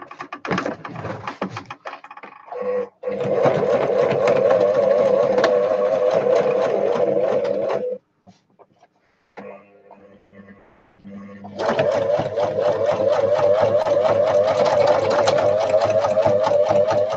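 A sewing machine runs steadily while stitching cotton fabric for a handy pocket book, in two long loud bursts separated by a brief pause with light handling noises.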